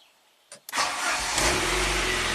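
A 1993 Saab 9000 CSE Turbo engine cranks briefly with two short bursts, then catches and settles into a loud, steady idle that holds evenly to the end.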